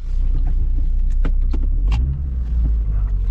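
A Vauxhall Corsa B petrol engine idling smoothly on all four cylinders after a replacement coil pack, a steady low rumble close by, with a few brief clicks and knocks over it.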